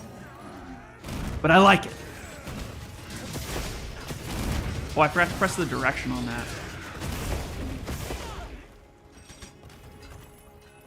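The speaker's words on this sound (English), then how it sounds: "There's a lot of explosions happening, and I'm not sure which one's mine." Explosions from a gunlance in a video game boom and crackle in dense overlapping bursts, with a sharp blast early on, mixed with game mechanisms and someone talking over the top.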